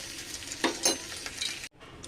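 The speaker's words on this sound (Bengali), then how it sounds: "মাছটা রান্না করার জন্য পেঁয়াজ কুচি দিয়ে দিলাম তেলের ভেতরে।" Chopped onion fries in hot oil in a pan with a close, steady sizzle, and louder stirring scrapes come in bursts before the sound cuts off briefly.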